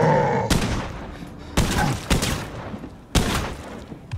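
Bursts of gunfire in a shooting video game: four sharp, loud volleys spaced irregularly across a few seconds, each trailing off into a quieter background.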